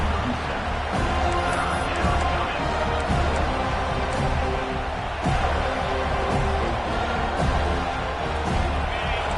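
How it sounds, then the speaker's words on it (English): Steady roar of a large stadium crowd in a football video game, loud and continuous, with swells of cheering rising and falling throughout. "Listen to the crowd energy here in the early going."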